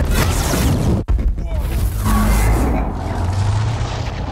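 A Men in Black alien blaster fires with one sharp, loud crack, followed by a dense, roaring, whooshing sci-fi effect that rumbles on without a pause.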